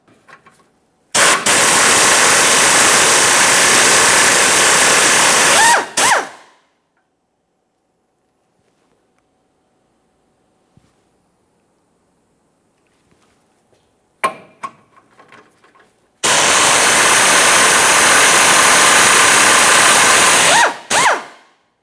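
A power tool removes two 14mm bolts on a 2008-2017 Mitsubishi Lancer during front lower engine mount work, in two loud, close bursts of steady buzzing whir, each a few seconds long, with a long quiet gap between them.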